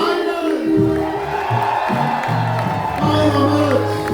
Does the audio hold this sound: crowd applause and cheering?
yes